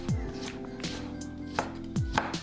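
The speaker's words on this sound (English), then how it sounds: "Peel and slice 2 carrots into a fine julienne" A knife cuts peeled carrots into fine julienne on a board, with several crisp, close taps landing in a quick, uneven rhythm and no talking.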